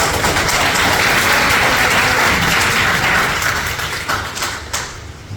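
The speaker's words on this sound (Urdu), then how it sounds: "سمپل تالی بجا کر" Audience applause at a talk on behavior and communication, many hands clapping densely and loudly at once, sustained for several seconds before thinning and tapering off toward the end.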